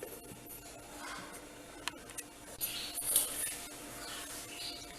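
Cumin seeds and black pepper are crushed by hand for rasam, a soft gritty rubbing and grinding with small clicks, quiet and close, growing a little louder toward the end.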